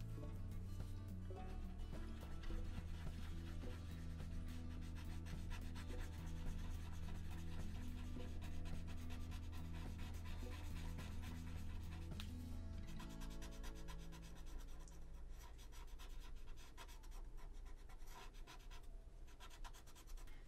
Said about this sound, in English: This is like working on sandpaper, so this blending stump is getting its little tip worked here.